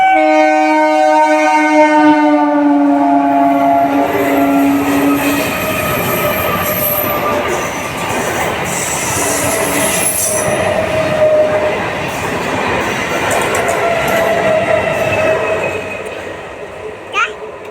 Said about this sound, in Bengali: দেখ ট্রেন আসছে বাবা